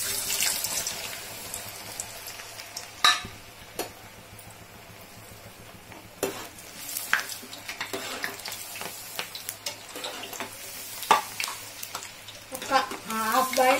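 Potato finger chips fry in hot oil over a high flame, giving a steady, fairly soft sizzle with scattered crackles and pops, while someone talks over it.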